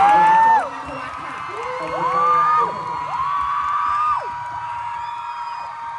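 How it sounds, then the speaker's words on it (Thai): A concert crowd at a summer fan event cheers and whoops, with several high rising shouts standing out over a steady bed of crowd noise, loudest at the start and then holding fairly even. "ขอเสียงปรบมือเป็นกำลังใจนะคะ"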